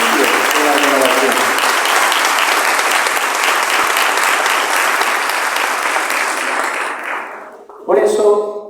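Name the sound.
congregation giving loud applause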